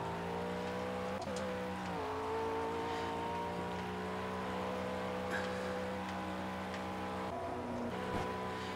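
A race car engine in the video game Project Cars drones steadily at mid revs with layered harmonic tones, the pitch dipping slightly through shifts and throttle changes, close and continuous with no voices.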